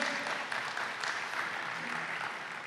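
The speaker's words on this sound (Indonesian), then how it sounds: "beri tepuk tangan yang meriah buat nama Tuhan" A church congregation at an Indonesian service applauds for God: a thick, continuous wash of many hands clapping at once, steady and fairly loud throughout.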